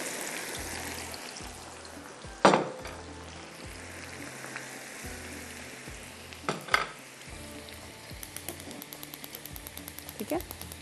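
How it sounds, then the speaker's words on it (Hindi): Okra frying in oil in a home kitchen, a steady low sizzle with a few louder clatters and scrapes, close by and moderately quiet throughout. "ये हमारे पास ऑयल जो है, इसमें भिंडी डाल देती हूँ ताकि आराम से भिंडी फ्राई होती रहे।"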